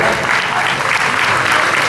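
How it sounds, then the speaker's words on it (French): Audience applause at a Paris Manga convention panel with voice actors, a dense, steady wash of many hands clapping close and loud throughout, with no talk over it. "on va les applaudir"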